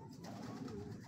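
Racing pigeons coo softly in a loft, a low, continuous murmuring burble close by with no one speaking.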